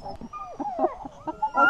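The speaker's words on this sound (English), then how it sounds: "Oh, you mean the dog." A sled dog whimpers and yips in thin, high, wavering whines at a snowy dog sledding outing in Pagosa, Colorado, with soft scattered sounds behind it and no talk.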